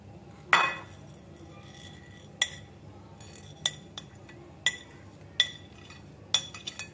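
Ginger and spices being coarsely pounded, a series of sharp clinking strikes at an irregular pace, each separate and moderately loud against a quiet background.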